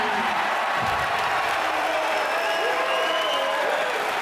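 A Perth crowd at a UFC 305 press conference applauds in a dense, continuous wash of clapping and cheering that holds steady and loud from start to finish.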